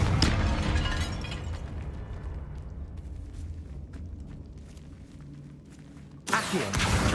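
Confringo blasting spell explosion in the Hogwarts Legacy video game: a loud, sustained rumbling blast with crackling debris that slowly fades, followed by a sudden second burst near the end.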